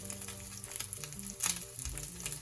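A salmon patty frying in a pan, a steady close sizzle with a brief louder spit near the middle, music playing underneath.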